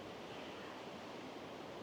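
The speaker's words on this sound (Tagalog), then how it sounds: "I mean, yung tunog ng alon," Ocean waves near cliffs on Guimaras island, heard as a steady, dense roar of surf and wind noise with no distinct breaks, fairly faint overall.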